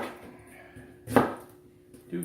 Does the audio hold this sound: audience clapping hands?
no